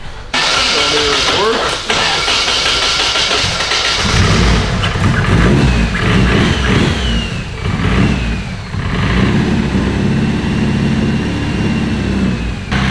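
A K-series engine in a rear-wheel-drive Honda Civic idles and revs loud and close, a little knocky but no longer misfiring, with voices talking now and then over it.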